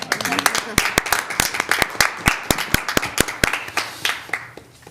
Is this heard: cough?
no